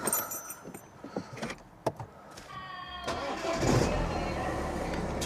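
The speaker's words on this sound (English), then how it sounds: "they do work as in starting the car" A neglected BMW E91 estate car is started with the key: a few clicks and rattles, then the engine cranks and catches into a steady running rumble close by.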